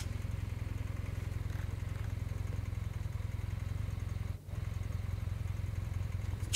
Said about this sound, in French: Le bruit du moteur résonna bientôt dans la nuit.